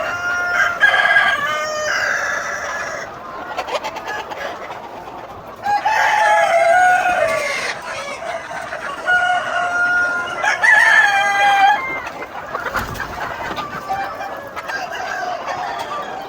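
Chickens cluck steadily while roosters crow repeatedly at a farm selling poultry and eggs, several birds close by making a busy, overlapping racket with no talking.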